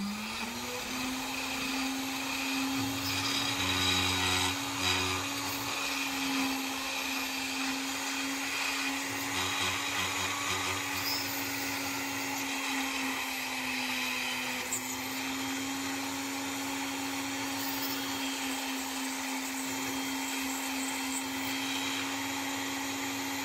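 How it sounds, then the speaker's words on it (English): A small drill whines steadily and continuously for a long stretch while drilling through a pearl, with a constant motor hum and gritty grinding underneath. "That's just the sound of the drill."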